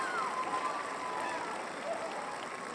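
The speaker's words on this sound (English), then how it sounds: "Now you guys gotta stop cheering" Viewers at a watch-along cheer and clap for a Philadelphia Eagles touchdown run in an NFL divisional playoff game against the Los Angeles Rams, a steady, fairly faint crowd roar with some whistling throughout.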